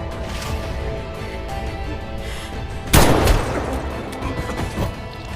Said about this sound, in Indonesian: Billy datang dan langsung menembakkan pistol ke arah Freddy.